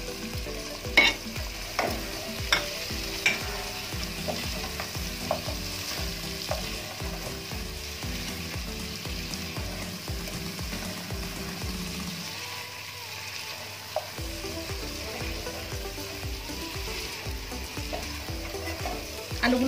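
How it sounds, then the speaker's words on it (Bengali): Potatoes sautéing with meat in a thick spice masala for biryani, steady sizzling under regular scraping stirs against the pan, close by, with a short lull midway before the stirring picks up again. "এবার আমি আলুগুলোকে দিয়ে কিছুক্ষণ একটু কষিয়ে নেব।"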